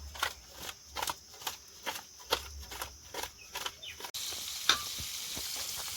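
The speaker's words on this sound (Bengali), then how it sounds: "ওদিকে মাছ ভাজা চলছে" Fish frying in oil in a wok in a home kitchen: a steady sizzle broken by rhythmic scraping and stirring strokes, close and alone, then a continuous hiss of frying.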